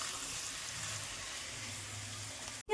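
Fish or meat fries in a pan for a home meal, giving a steady, close hiss and sizzle that carries on evenly without talk until it cuts off abruptly.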